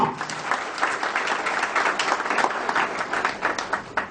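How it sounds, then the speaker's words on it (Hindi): Seminar attendees at a BNI business meeting in Korba give a hearty round of applause, a crisp crowd of hands clapping steadily and unevenly for several seconds, moderately loud with no voices over it. "तो हो जाए एक बार बीएनआई के लिए जोरदार तालियां।"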